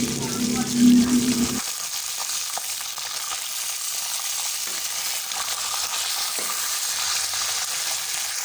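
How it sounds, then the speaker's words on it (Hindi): Fish pieces half-fried in hot oil in a pan for korma, an even crackling sizzle after a brief low thump at the start, continuing steadily with no clear speech. "हमारी फ़िश जो है हाफ़ फ्राई हो चुकी है।"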